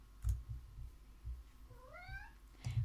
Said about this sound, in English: And there's the meow.